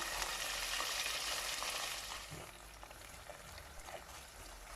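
Onion frying in hot oil with rosemary, a steady close crackling sizzle that is loudest at first and eases slightly after a couple of seconds, with a few soft clicks and stirring sounds and no voices.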